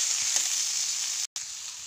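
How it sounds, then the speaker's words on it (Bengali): Potatoes frying in a pan with onion and spices give a steady, close sizzle throughout, broken by one brief dropout near the end. "এখন পেঁয়াজ আর মশলাগুলো ঢেলে দিই। ঢেলে কষা কষা করে নিই"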